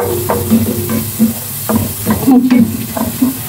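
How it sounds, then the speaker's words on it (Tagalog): Onions sautéing in a pan for ginataang papaya with sitaw and sardines, a steady close sizzle broken by repeated stirring scrapes and clinks of a utensil, with no talking. "Nagigisa na ako."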